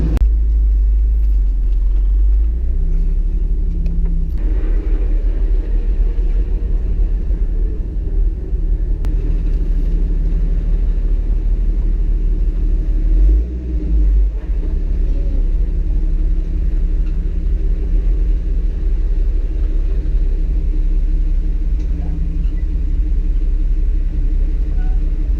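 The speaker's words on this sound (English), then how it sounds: "We're driving back slowly but surely to our campground." A Jeep crawls slowly along a Moab off-road trail, its engine giving a steady, close low rumble that holds without a break for the whole stretch, with no talking over it.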